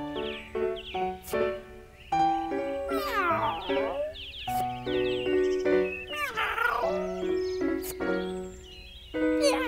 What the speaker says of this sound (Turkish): İşte kedi geldi.